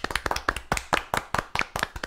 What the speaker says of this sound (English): clap when you hear this sound